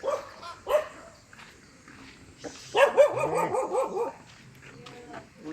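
A dog barks a few times at moderate distance outdoors, with sharp yips early and a longer burst of barking in the middle, while people talk quietly nearby.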